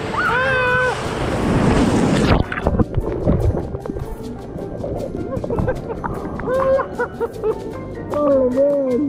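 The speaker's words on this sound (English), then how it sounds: "The ocean's angry with us tonight, boys." Rough ocean surf off Kauai roars and crashes loudly for the first couple of seconds, then breaks into choppy splashes and wind buffeting, with voices calling out over the water.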